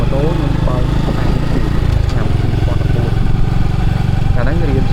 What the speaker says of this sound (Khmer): តែខ្ញុំតែទៅជាមួយនឹងការបើកបរម៉ូតូ